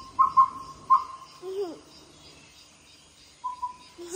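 Faint, repeated bird calls, thin and tonal, sound through a small loudspeaker set up to attract other birds at Fraser's Hill, with short bursts followed by quiet gaps and a longer whistled note near the end.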